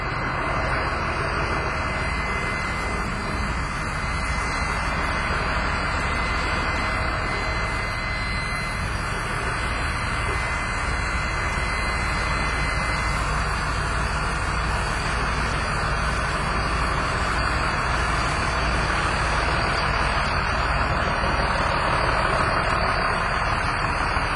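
A vehicle engine fitted with a push-button transmission, running steadily at idle after being fired up, with a constant loud drone throughout and no talking.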